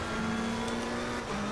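A race car engine in Assetto Corsa Competizione drones steadily at high revs, loud and close throughout with a near-constant pitch and no voice over it.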